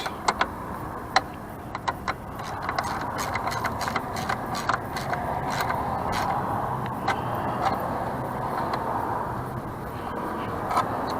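Socket wrench tightening a fastener on a Sea-Doo SPX GS 717 engine, with steady ratcheting clicks and metallic ticks over a continuous mechanical background hum, close by, with no talking.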